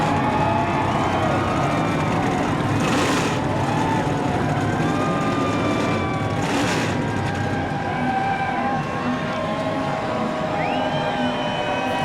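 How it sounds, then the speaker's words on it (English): NASCAR stock car engines idle and rumble as a field fires up at New Hampshire Motor Speedway, a dense, steady, fairly distant roar with overlapping revving tones and no clear talk. "Drivers, start your engines!"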